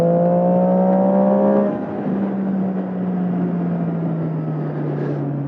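A Triumph Street Triple 675 motorcycle's exhaust gives a steady, loud, close engine drone that drops in pitch after a couple of seconds and then holds an even, slightly falling hum.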